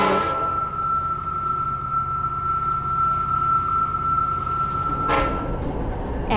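A train rolls on steadily through the night with a continuous rumbling drone and a sustained tonal hum, loud and close, then a brief burst of clatter near the end, with no voices.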